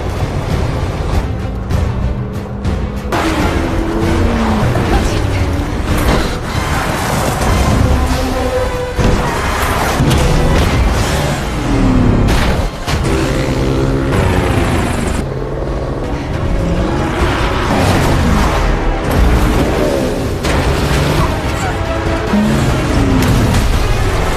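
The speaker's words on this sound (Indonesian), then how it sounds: "Bond segera mengambil jalur alternatif dan terjadi kejar-kejaran." Car chase from the James Bond film No Time To Die, with dense, continuous engine roar, rumbling impacts and whooshes layered with dramatic film score, loud and unbroken throughout.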